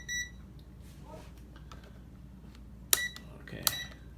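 Two sharp electronic beeps close together near the end, bright and brief, over a quiet room hum with a faint earlier tone.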